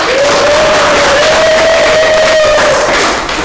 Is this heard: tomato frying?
no